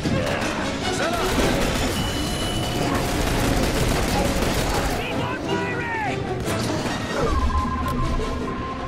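Rapid turret gunfire from The Bureau XCOM Declassified fills the scene with loud, continuous bursts and crashing impacts, while voices call out over the shooting.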